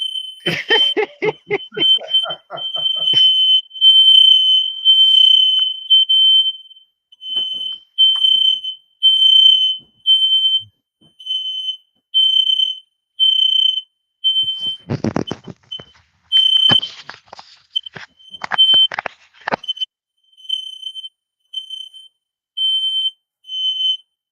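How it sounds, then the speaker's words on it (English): A smoke-triggered fire alarm beeps steadily and repeatedly throughout, set off by Carolina Blue cigar smoke, with voices talking briefly near the start and again midway. "alarm, fire alarm. Fire going on."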